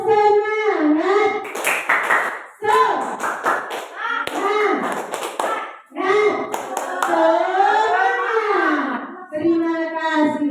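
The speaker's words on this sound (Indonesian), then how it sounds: "Tepuk semangat." A group of parents at a primary school performs a tepuk semangat clapping routine: sharp claps come in quick bursts between loud sung and chanted voices, close by and in a brisk rhythm.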